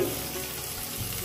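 Vegetable stalks sizzling and frying in a pan of hilsa fish curry, a continuous close crackling hiss with no voices.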